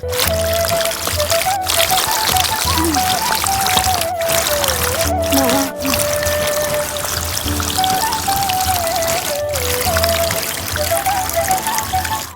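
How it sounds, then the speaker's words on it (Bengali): Water from a small homemade toy fountain for dolls falls steadily with a close, continuous trickling and splashing, broken by a few abrupt cuts, no voices. "দেখো বা আমাদের ঝর্ণা থেকে জল বেরোচ্ছে দেখো কত সুন্দর জল পড়ছে"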